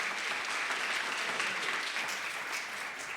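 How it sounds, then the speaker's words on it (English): Applause for a panel group on stage at the Nordregio Forum 2023, a steady, even wash of many hands clapping from the audience, moderately loud and unbroken throughout. "A big round of applause as well for the group here."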